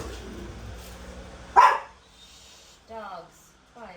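Dogs give a single sharp bark near the middle, loud and close, with a quieter whimper around it and a person talking before and after.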